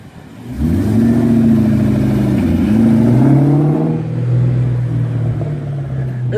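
A deep V8 engine rumbles up and revs, its pitch rising and then settling into a loud, steady idle close by.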